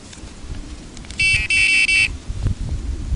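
A radar detector gives a short burst of sharp electronic beeps, repeated quickly for under a second, cutting through low rumbling background noise.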